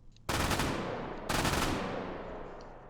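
MG42 machine gun firing fully automatic at targets in a VR shooting game, two loud sustained bursts of rapid fire, each tailing off into a long echoing decay.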